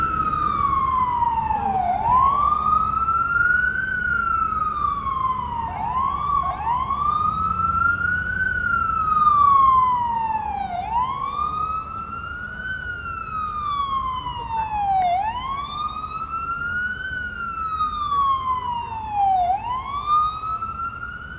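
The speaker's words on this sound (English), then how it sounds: "I hate to hear ambulances." An emergency siren wails up and down in long repeated sweeps, loud and steady, with faint traffic rumble underneath.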